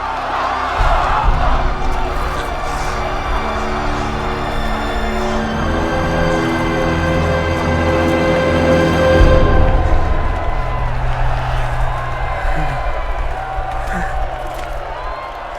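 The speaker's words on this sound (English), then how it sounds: "They are openly cheering the opposing side during the trial of the Seven" A small crowd of common folk at a Trial of Seven cheers and whoops for a hedge knight, with sustained loud cheering mixed with shouts, scattered voices and some clapping, rising and falling throughout.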